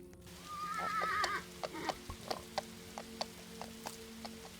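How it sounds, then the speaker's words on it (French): A horse whinnies near the start, followed by a steady series of clip-clop hoofbeats, with a low hum running underneath. "J'entends un cheval."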